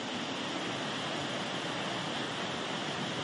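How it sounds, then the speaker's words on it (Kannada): At Charmadi Ghat in Karnataka, heavy rain swells a waterfall that pours straight onto the road. It makes a steady, dense, hissing rush with no break, and no voices are heard. "ಸೀದಾ ರಸ್ತೆಗೆ ಹರಿಯುತ್ತೆ ನೀರು, ಅಷ್ಟು ಮಟ್ಟಿಗೆ ಜಲಪಾತ"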